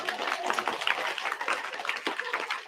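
An audience claps through a spiritual talk session, a steady patter of many hands at moderate distance with no voices standing out.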